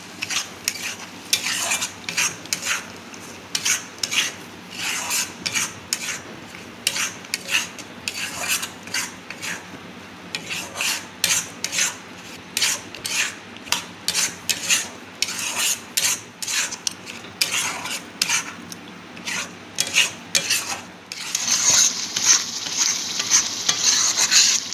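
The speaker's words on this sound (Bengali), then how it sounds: "অনবরত নাড়তে হবে" A spoon scrapes and stirs a jaggery sandesh mixture in a pan with rapid, continuous rasping strokes and a light sizzle, close up, with no talking.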